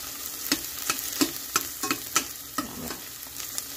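Onion frying in a pan sizzles steadily while a utensil stirs it in quick, regular scrapes and taps, close and clear, with no talk.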